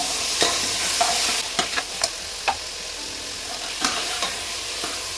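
Tomatoes and cut potatoes stir-fried in oil for ridge gourd sambar, with a near sizzle broken by several sharp spoon taps and scrapes against the pan.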